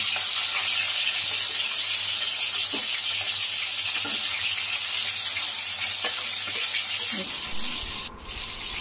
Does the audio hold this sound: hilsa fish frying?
yes